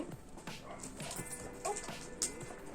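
A 3.5-year-old black dog during an obedience training session with a dog handler, giving short yips and whimpers amid rustling and scattered thuds, fairly close and moderately quiet, with no talk.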